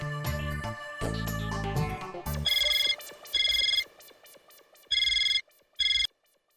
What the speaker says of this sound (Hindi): सर जी, मनोज भाई को फोन कर लीजिए ना।